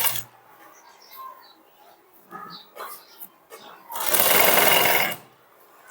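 A sewing machine runs a second line of stitching over the first on a sleeve joint extension, a loud sustained whir of about a second after scattered handling clicks and quieter moments.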